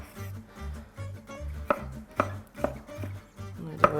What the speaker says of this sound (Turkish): Bunları da böyle ince ince doğruyorum.